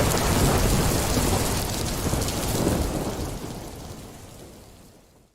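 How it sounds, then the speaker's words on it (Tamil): Heavy rain pours down in a dense roar with deep rolling thunder beneath it, loud at first and gradually fading away toward the end. "இதுல இந்த மழை வேற."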